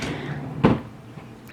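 A makeup storage drawer slides open or shut with a single brief thud and rumble, close by, followed by a couple of faint small clicks.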